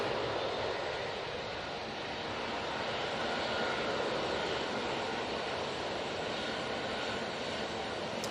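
An Airbus A320neo departs Manchester Airport bound for Lanzarote, heard as a faint, distant, steady engine roar that holds evenly from start to finish.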